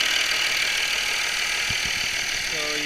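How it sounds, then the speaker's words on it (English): An Audi Q7 engine idles steadily just after a NOx sensor replacement, a continuous even running drone close to the microphone with a few faint knocks and a brief tonal whine near the end. "So you can see the engine runs good."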